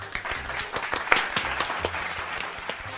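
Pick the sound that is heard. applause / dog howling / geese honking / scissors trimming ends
applause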